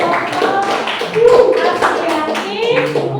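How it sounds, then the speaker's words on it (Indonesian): Classroom applause from a group of students, a dense patter of many hands clapping close by for a few seconds, with children's voices and chatter mixed in. "kita tepuk tangan."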